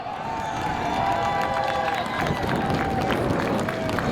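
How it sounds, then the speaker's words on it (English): A crowd at Seekonk Speedway cheers and applauds the winner of the Pro Stock feature, a continuous wash of distant voices and clapping with faint tonal sounds running underneath. "How about a round of applause as he gets ready to climb out of the car?"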